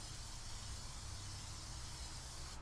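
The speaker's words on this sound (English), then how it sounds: "I do like using non-stick cooking spray for my eggs." Non-stick cooking spray hissed into a pan before cooking eggs, one continuous soft aerosol spray lasting a few seconds and stopping abruptly at the end, quiet and alone.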